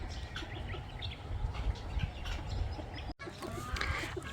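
Bantam chickens in a sheltered enclosure next to quails give soft, scattered clucks and chirps at a low level, with other small birds and light rustling around them.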